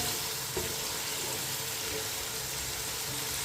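Chopped tomatoes and green chilies fry with cumin seeds in a pan, giving a constant, even hiss with one small knock early on.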